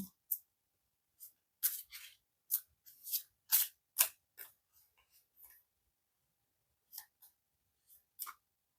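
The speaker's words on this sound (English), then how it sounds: "I've been shuffling for a million years." Quick papery riffles and snaps of tarot cards being shuffled, coming in short irregular bursts with brief pauses, close and fairly quiet.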